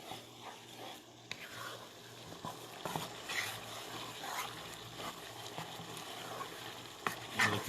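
Barley risotto with onions, garlic and mushrooms simmering in stock in a pan, giving a soft continuous sizzle and bubbling under repeated spoon stirring and scraping, fairly quiet and steady throughout.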